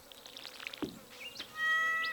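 A cat meows in the Stardew Valley video game, a short bright call near the end after scattered light clicks and a soft low thump, with no talking.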